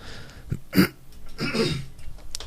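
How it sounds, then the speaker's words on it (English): A brief throaty cough, a quick single burst followed by a softer rough clearing, close and fairly quiet. "Excuse me, I had a little cough there."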